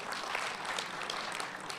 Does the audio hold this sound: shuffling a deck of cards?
no